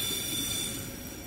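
The last wagon of a VLi freight train rolling past on a mountain railway line, a steady low rumble with a faint metallic hiss that eases off slightly as the car moves away.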